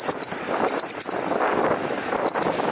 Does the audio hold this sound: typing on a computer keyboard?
no